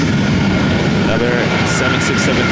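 Boeing 767-300ER jet airliner at LAX gives a loud, steady roar for the whole short stretch, with a broad rushing engine drone close by.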